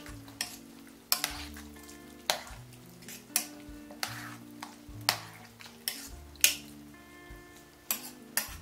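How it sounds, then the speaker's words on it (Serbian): Peas frying in a pan are stirred in repeated strokes, each scrape and clatter against the pan landing roughly every second over a steady close sizzle, with no talking. "Pa ćemo to izmešati."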